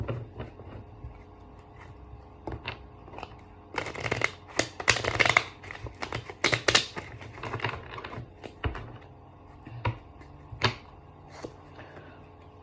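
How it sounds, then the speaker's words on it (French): Deck of oracle cards shuffled and then drawn, with soft riffling and flicking bursts that build into a dense shuffle midway, followed by scattered card snaps and taps close up, with no voices. "On va tirer encore 3 cartes avec cet oracle."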